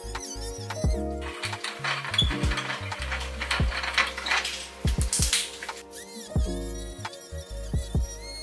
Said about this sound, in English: Let's switch to the cutting machine.